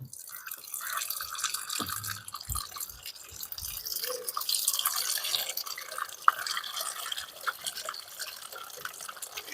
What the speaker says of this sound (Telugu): సో మట్టి అంతా లేచిపోకుండా చక్కగా చిన్నగా పోయాలి.